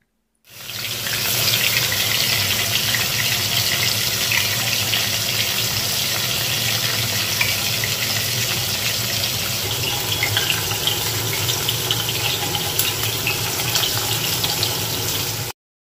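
Fish goes into hot mustard oil in a wok, setting off a loud, even, continuous sizzle that rushes like running water and holds steady for about fifteen seconds with no talk.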